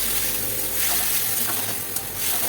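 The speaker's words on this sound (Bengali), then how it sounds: "মশলাটা অ্যাড করলাম এবার এটাকে আমি কষাবো" Spice paste fries in oil for a fish curry, a dense, close sizzle that stays steady and fairly loud, with faint stirring scrapes and no voices.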